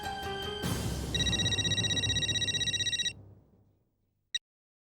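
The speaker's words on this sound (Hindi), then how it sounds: "फोन लग गया। घंटी बज रही।" A phone ringing on an outgoing call gives a steady electronic ring tone for about two seconds that cuts off, followed by a brief click, close and clear with no talk.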